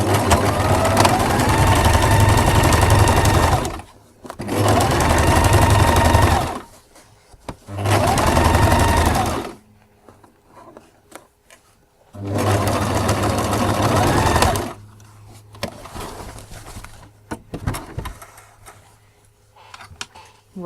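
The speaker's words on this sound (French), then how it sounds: "On repasse en point droit pour faire la couture." A sewing machine sews a straight-stitch seam on a pocket in four loud, rapid, buzzing bursts of a few seconds each, separated by quiet pauses with faint handling noise.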